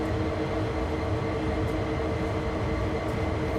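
A locomotive in Train Sim World 3 moving through Cajon Pass, producing a continuous dense low rumble and engine drone, steady and close, with no talking.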